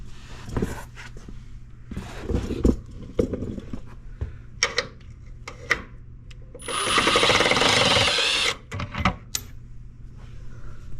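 Short intermittent clicks and clatter, then a loud buzzing power-tool burst of under two seconds removing the bumper bolts, followed by more clanks, close by.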